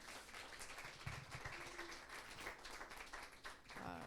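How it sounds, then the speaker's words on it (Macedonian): Applause at the close of a talk on RAG systems for contextual knowledge access, a dense patter of clapping from a modest audience that carries steadily throughout, with voices mixed in. "Ајде, аплаузе"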